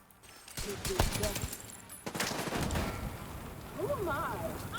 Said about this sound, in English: Automated turrets detected